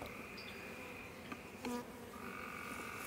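Honeybees buzzing steadily around stacked hive boxes during a hive inspection, a faint continuous drone with a few closer passes.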